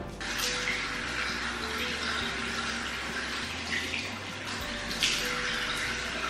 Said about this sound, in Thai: เดี๋ยวมาล้างออกกันดีกว่าว่าพอล้างออกแล้วเป็นยังไงบ้าง